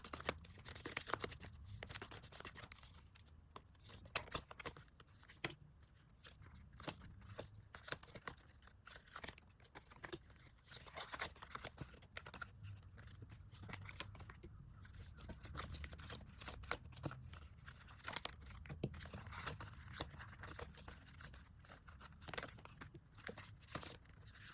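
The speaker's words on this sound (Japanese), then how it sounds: "では選択肢 A の方、シャッフルしていきたいと思います。" Tarot cards shuffled by hand for a reading, a steady dense rustle of papery flicks and soft slaps running close and continuous for about twenty-five seconds with no talk.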